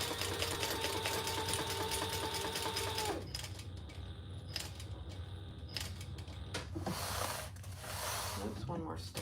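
A sewing machine stitches a seam on a bag, whirring steadily for a few seconds, then stopping while the needle stays down to pivot, followed by scattered clicks, handling noises and a shorter burst of stitching.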